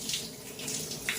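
Warm shower water running steadily close by, a continuous hissing spray with faint splashing variations throughout, without talk.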